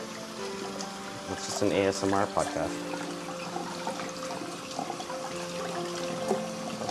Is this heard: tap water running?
yes